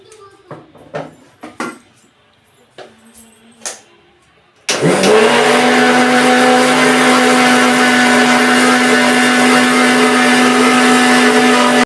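An electric kitchen mixer grinds coconut and cumin with water, starting abruptly after a few soft clicks and handling noises, then running as a loud, steady whirring drone to the end.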